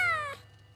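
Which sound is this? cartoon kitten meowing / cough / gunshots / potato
cartoon kitten meowing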